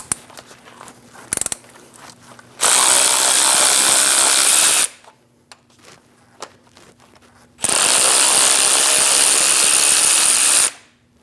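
A power tool removes bolts on a 2001-2006 Chevrolet Silverado 2500 HD, two loud sustained whirring bursts of about two and three seconds each, separated by quieter clicks and handling noises.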